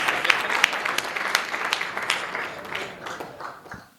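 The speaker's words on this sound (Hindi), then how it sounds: "बहुत जोरदार तालियां" Audience applause at a kavi sammelan poetry gathering, a dense wash of clapping from many hands that holds steady and then fades out over a few seconds.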